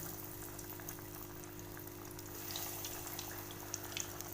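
Eggs fry in hot oil in a wok, a faint, steady crackling sizzle close by with a low hum underneath and a few sharper pops near the end.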